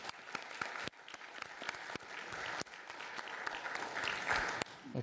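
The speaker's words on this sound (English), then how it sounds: "I have a round of applause for Kai." Applause fills a city commission meeting chamber, steady clapping from a moderate crowd with sharp individual claps standing out, sustained for several seconds without speech.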